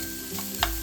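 Fresh grated coconut filling for karanji stirred in a pan, a brief dry scraping and shuffling with a faint sizzle and a small clack of the spoon near the end.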